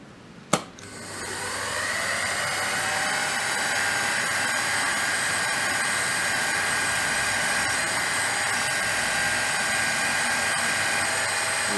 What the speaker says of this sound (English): I'm going to try to drill even without using the spotting drill.